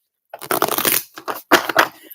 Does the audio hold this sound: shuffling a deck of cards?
yes